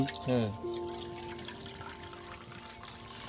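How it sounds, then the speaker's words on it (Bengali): Water pours into a bowl while semolina rasgulla is being made, a steady splashing trickle following a brief voice at the start, with soft kitchen ambience throughout. "আর এই চার বাটি জল দিয়ে দিলাম"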